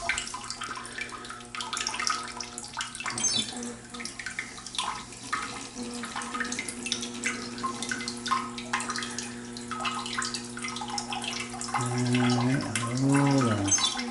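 Water running from a Daelim bidet wash nozzle after its water supply is restored, a steady broadband rush with a faint low mechanical hum, growing a little louder near the end.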